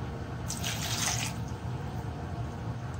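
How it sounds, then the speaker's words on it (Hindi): Water pouring into a metal pressure cooker holding turnips, a brief splashing rush that fades to quiet trickling, close by with no talking. "1 कप पानी डालेंगे"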